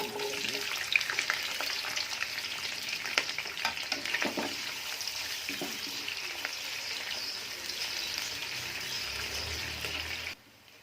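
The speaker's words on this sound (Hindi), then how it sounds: "ये ऑयल गर्म किया हमने, वही वाला ऑयल, और उसमें हम ये प्याज से हम ये शामिल करते हैं" Sliced onions frying in hot oil in a pan, a steady, dense sizzle with light crackling that holds throughout and cuts off sharply near the end, with no talking.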